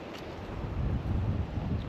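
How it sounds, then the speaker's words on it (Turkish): Wind buffeting the microphone on the far side of a mountain, a steady low rumbling gust that swells slightly and stays close and fairly loud for the whole stretch, with no talk. "Dağın diğer tarafına geçince rüzgarı hissetmeye başladık."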